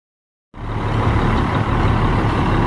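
Concrete mixer truck engine starting abruptly after half a second of silence, then a steady, loud, close diesel rumble with a low hum, continuing alone without talk.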